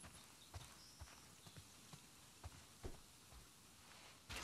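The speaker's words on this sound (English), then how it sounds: "Hi, horsey." Horse hooves clip-clop in The Last of Us Part II, a handful of soft, irregular hoofbeats spaced across a quiet, faint game ambience with no talk over them.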